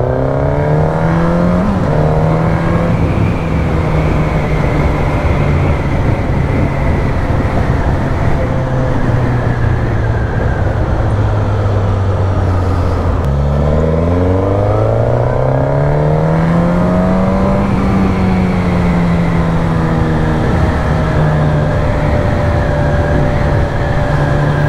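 A Suzuki GSX-S950 motorcycle engine revs hard through rising and falling gears, loud and close, with a brief drop before it winds up again.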